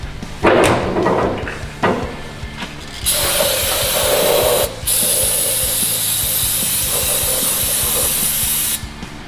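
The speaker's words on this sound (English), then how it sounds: "I usually like to spray them out with diesel, brake clean" Several bursts of aerosol brake cleaner hiss up close as diesel caps are sprayed out, each a sustained rush lasting a second or more, separated by short pauses.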